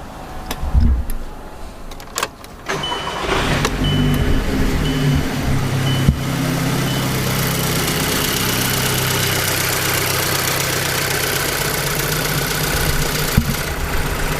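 A Volkswagen GTI's engine is started after an oil top-up: a few clicks and handling noises, then the starter cranks and the motor catches, settling into a steady, rumbling idle that runs evenly to the end.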